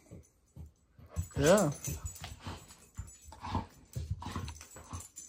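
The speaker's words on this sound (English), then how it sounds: "now I gotta take care of three dogs" Several dogs at home whimper and yip in short, high whining bursts close by, mixed with a person's brief speech and household rustling.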